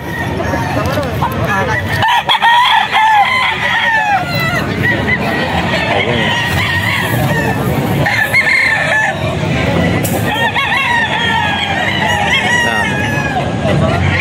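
Several roosters crow loudly and chickens cluck all around in a busy, noisy yard at a breeder farm in Bocaue, Philippines, with people talking somewhere in the mix.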